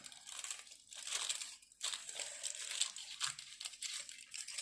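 Scissors snipping through paper card for a handmade chocolate-bar greeting card, a series of soft, close crinkling cuts with brief pauses between strokes.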